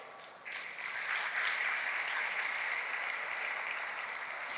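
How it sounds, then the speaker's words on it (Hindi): Sustained audience applause welcoming a speaker at a student parliament address, a dense wash of clapping that swells in after a brief quiet start and holds steady and loud throughout. "आपने तारीफों भरी तालियां बजाकर मेरा स्वागत किया है"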